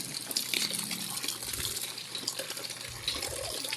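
Tap water runs and splashes continuously while water spinach is rinsed for adobong kangkong, loud and close, with faint handling clatter underneath.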